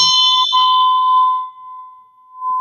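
A single struck bell rung to clear a room's energy gives one clear, loud ring that hangs and slowly fades, with a faint touch near the end.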